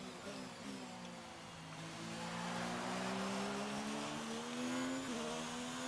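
A race car engine in the F1 2019 video game drones steadily on a rainy track, its pitch slowly rising and dipping as the car slides and accelerates. It is continuous and fairly loud, with a brief shift near the end.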